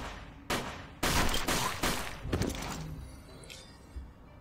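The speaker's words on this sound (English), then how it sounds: "They're shooting." Gunfire in the video game UFO: Afterlight: a burst of several loud, sharp shots in quick succession, then trailing echoes and a couple of fainter reports as the exchange dies away.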